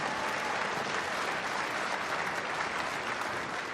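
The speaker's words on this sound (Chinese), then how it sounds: "朋友们，不要忘记您的掌声" A wedding audience applauds steadily and loudly throughout as the couple walks in, with dense continuous clapping and no talk.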